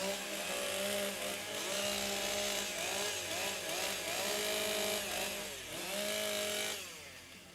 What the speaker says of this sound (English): They'll restart the event, restart their saws.